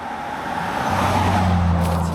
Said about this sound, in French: Les voitures elles arrivent un peu trop vite pour nous.